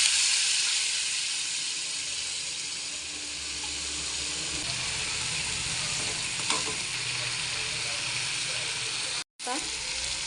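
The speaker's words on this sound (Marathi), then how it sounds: "आता आपण थोडंसं गरम पाणी त्याच्यात टाकू." Hot water poured into a sizzling vegetable curry in a kadai, a loud, steady frying hiss with stirring scrapes and a splashy surge partway through, briefly cut off near the end.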